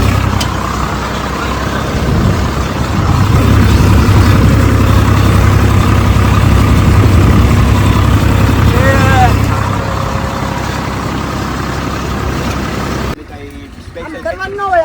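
A heavy tractor engine idles steadily with a deep, rumbling drone for most of the stretch, voices speaking over it, before it cuts off near the end.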